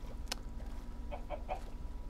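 Minecraft chickens give a few short, faint clucks in quick succession over low background game noise.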